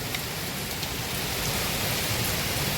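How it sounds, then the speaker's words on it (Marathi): Heavy rain pours down in a dense, constant hiss, loud and unbroken throughout. "लय जबरदस्त पाऊस पडायला लागलेला आहे"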